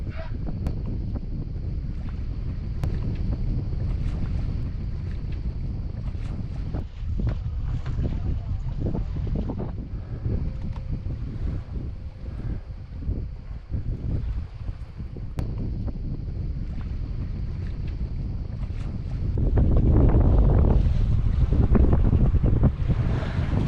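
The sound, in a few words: wind blowing while sailing a junk-rigged boat out of a bay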